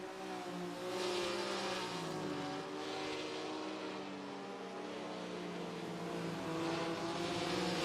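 Race car engines roar in a sim racing game at Monza in 1966 trim, a dense, steady blend of several cars at high revs with rising and falling pitch, continuous and moderately loud throughout.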